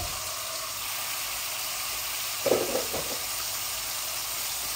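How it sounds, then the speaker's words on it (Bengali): Radish pieces poured into a hot frying pan for a tilapia-and-radish curry, giving a steady close sizzling hiss with a brief louder splash of crackle midway before it settles back to an even fry. "এইভাবে মূলাটাও ঢেলে দিচ্ছি"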